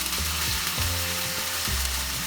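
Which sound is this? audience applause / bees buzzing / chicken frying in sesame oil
chicken frying in sesame oil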